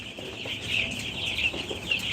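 Hens sheltering in their coop on a rainy day cluck softly and steadily, a continuous murmur of several birds close by, with a constant high hiss of rain running underneath.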